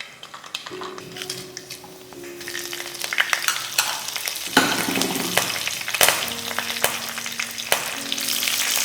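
Green and dried red chillies, curry leaves and cashews frying in oil, a crackling close-up sizzle that swells and spits, broken by scraping stirs and pan knocks against a faint low hum.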